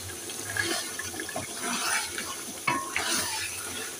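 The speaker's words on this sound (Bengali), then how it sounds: "এবার আমি জল দিয়ে দিচ্ছি।" Water is poured into a pan of braised meat cooking for Arabian kabsa, a continuous close splashing gush with bubbling and sizzling underneath, steady throughout with a brief spike near the end.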